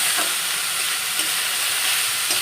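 Banana stem frying in a pan gives a loud, continuous sizzle with faint stirring scrapes, close and alone, with no voices.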